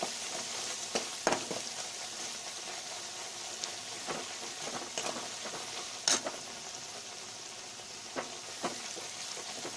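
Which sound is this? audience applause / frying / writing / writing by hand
frying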